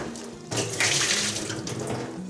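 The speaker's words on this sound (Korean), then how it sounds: "꽈리고추 15개는 흐르는 물에 가볍게 세척하고" Fifteen shishito peppers are rinsed under running tap water in a kitchen sink, a close, steady splashing gush that swells slightly as the peppers are moved through the stream.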